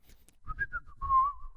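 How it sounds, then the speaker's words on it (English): A person whistles a short, clear melodic phrase at close range, with a few rising and falling notes followed by a longer held tone, and no talking. "I realized that I whistle a lot."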